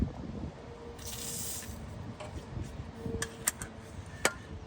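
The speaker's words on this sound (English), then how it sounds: "I'm gonna WD-40 these and let it soak for a little while." WD-40 sprayed onto the rear exhaust flange bolts of a 2009 Lexus RX350 during a muffler replacement: a single hissing burst of about a second, followed by a few faint ticks and clicks against quiet background noise.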